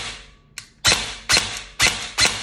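A BOLT MK18 Mod-01 airsoft rifle with a heavy recoil system fires four sharp, evenly spaced shots close by, each a crisp snap with a mechanical clack, after one faint click.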